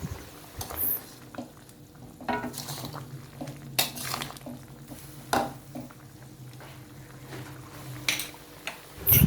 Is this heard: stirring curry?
yes